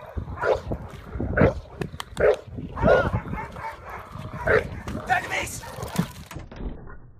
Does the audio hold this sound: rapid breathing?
no